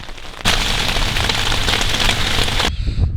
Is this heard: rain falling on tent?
yes